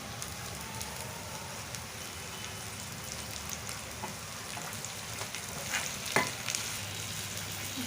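Raw banana pieces frying in a pan with curry leaves and turmeric, a steady close sizzle with light stirring scrapes and occasional pops, no talking.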